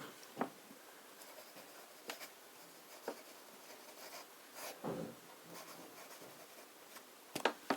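A fountain pen writing on paper in Montblanc Royal Blue ink, with faint, close scratchy strokes in short separate bursts and quiet pauses between them.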